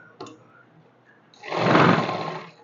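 A sewing machine runs one continuous stitching burst along the side seam of a simple salwar, loud and close, after a short sharp tap and a stretch of near silence.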